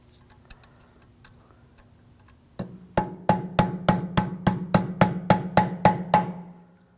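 A hammer strikes a chisel to bend back the peened axle nut on a 2007-2013 BMW 328i rear wheel, with about a dozen sharp, ringing metallic blows at a steady brisk rhythm after a quiet start, close and loud.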